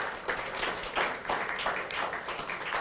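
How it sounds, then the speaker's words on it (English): Applause from a crowd, a steady wash of many hands clapping at moderate loudness throughout. "A round of applause."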